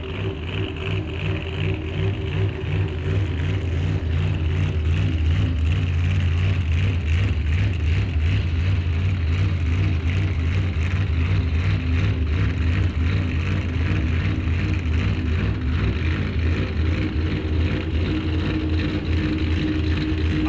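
Supercharged, fuel-injected drag racing car idling and running at Rock Falls Raceway during a bracket series event, a steady loud engine drone with constant low rumble throughout, no talking.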